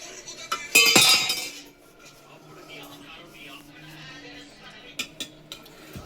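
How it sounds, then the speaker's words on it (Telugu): A lidded cooking pot is shaken hard, giving a loud burst of metallic rattling and clinking, followed by quieter scattered clinks while people talk nearby. "మూత వేసి ఊపాలి బాగా"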